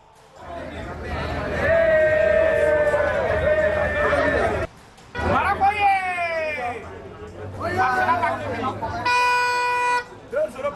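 Ivorian football fans cheering at a match for Morocco's national team, a dense crowd din with honking horn blasts and trumpet-like toots, loud and close, with chatter throughout and a sharp horn burst near the end.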